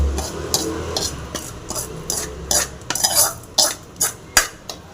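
A ladle stirs tempering into mashed spinach greens in a metal pot, giving repeated scraping and clinking strokes in an uneven rhythm, close and fairly loud, with a faint low sizzle early on.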